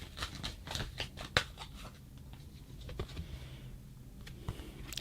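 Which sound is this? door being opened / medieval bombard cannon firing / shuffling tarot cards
shuffling tarot cards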